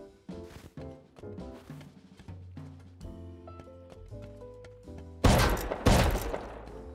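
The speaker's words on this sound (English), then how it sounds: "Okay, shotgun trap." A shotgun trap in a raided base in a survival video game fires a couple of sharp, loud blasts near the end, following a stretch of tonal game music and clicks.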